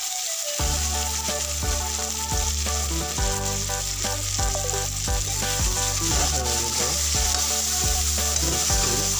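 Potatoes with tomato and chopped coriander sizzle and fry steadily in a pan while a spoon stirs them, with repeated scraping strokes over a constant loud hiss and no talking.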